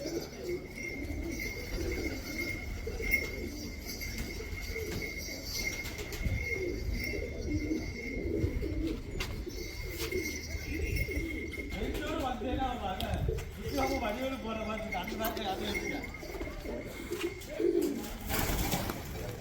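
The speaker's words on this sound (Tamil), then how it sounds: "புறாக்கள் எல்லாமே ப்ரீடிங்க்கு ரெடி ஆகிட்டு, எல்லாமே முட்டைக்கு ரெடி ஆகிட்டுருக்கு." Breeding pigeons cooing steadily in a loft, a dense layered chorus of soft throaty coos with occasional chirps, continuous and fairly close, with someone talking over it.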